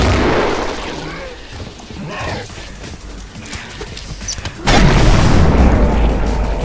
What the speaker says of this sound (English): First you throw a grenade.